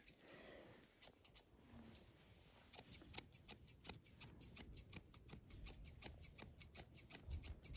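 Scissors snipping a doodle dog's hair during grooming, a quick run of close, crisp metallic clips that comes in bursts, then speeds into steady cutting.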